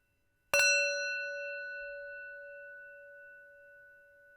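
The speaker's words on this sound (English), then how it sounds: "as we hit the bell" A single strike of a meditation bell rings out clear and bright, then sustains a long, slowly fading tone that hums on for several seconds in quiet surroundings.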